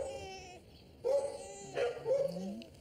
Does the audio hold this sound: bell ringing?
no